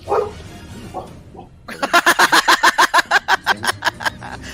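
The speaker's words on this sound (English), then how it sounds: "somewhere in the distance, the dog barks" A dog in the Dragon Age: Origins video game barks in a rapid run of about fifteen sharp, evenly spaced barks, loud and fairly close, after a quieter stretch of faint background sound.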